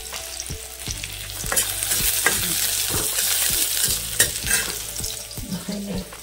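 Vegetables being stir-fried in a pan for Korean-style noodles give a close, continuous sizzle broken by repeated sharp clinks and scrapes of a utensil against the pan.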